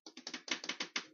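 Someone types on a computer keyboard: about nine quick, crisp keystrokes in an uneven rhythm, quiet and close, with no voices.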